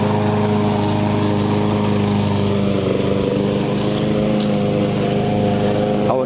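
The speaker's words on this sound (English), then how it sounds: "he's finishing up the mowing." A lawn mower cuts grass on rural hunting land, its engine droning loudly and steadily throughout with a constant, unbroken hum and no talking.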